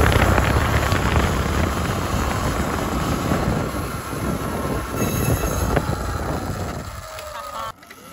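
An E-Ride Pro 2.0 electric dirt bike being ridden, giving a loud, steady broadband rush of motor whine, tire and wind noise that runs for about seven seconds, then drops off abruptly near the end.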